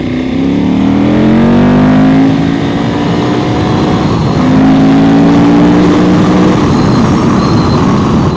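A 2015 KTM 1190 Adventure R motorcycle engine, loud and close, droning steadily with rising pitch sweeps as it accelerates, then easing off and climbing again, with heavy wind rumble underneath.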